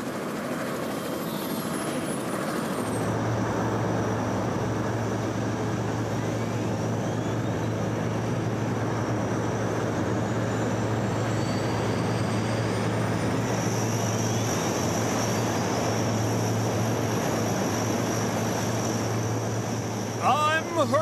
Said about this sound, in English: I'm a transport plane, and I'm also part of the search and rescue team.